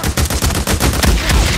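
Rapid gunfire in the video game Days Gone, a burst of loud, close, repeated shots in quick succession filling the short moment.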